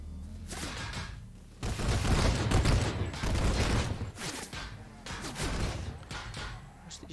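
Gunfire in Planetside 2 comes in loud, repeated bursts of rapid automatic shots separated by brief lulls, dense and close throughout.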